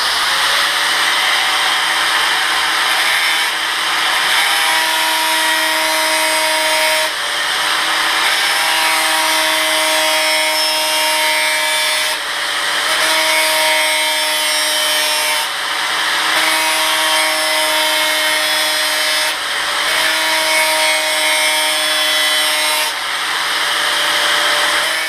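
A 4.5-inch angle grinder with a sanding disc grinds a steel double-bit axe head steadily for a long stretch, a bright whining tone over harsh broadband rasp, with brief dips every few seconds as it eases off.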